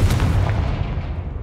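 Confringo blasting spell cast in the Hogwarts Legacy video game: a loud, booming blast with a heavy rumbling low end that holds steady, then a fresh burst strikes at the very end.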